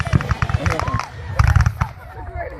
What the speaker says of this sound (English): Here's the fireworks.